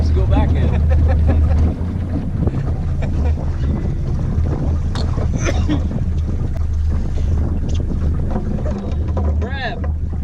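A boat engine runs at full throttle on a crabbing trip, a loud steady low drone mixed with heavy wind buffeting and splashing water, with people talking over it.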